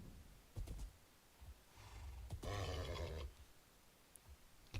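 A horse in Minecraft gives a single breathy whinny with snorting, fairly faint and alone, preceded by soft huffs.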